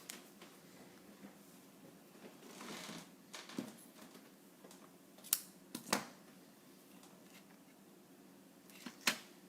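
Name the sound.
scissors cutting red ribbon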